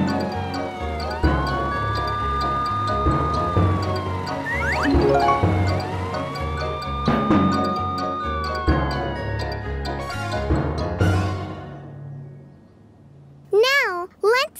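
A cartoon police car siren wails in rising and falling sweeps over lively animated-show music and effects, loud and close, with a brief pause and more chirpy sound effects near the end.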